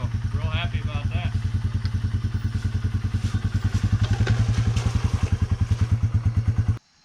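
A Yamaha TW200 motorcycle with an upgraded ATV rear tire climbs a loamy hill, its single-cylinder engine pulsing in a fast, even thump. The engine runs loud and close throughout, then cuts off abruptly at the end.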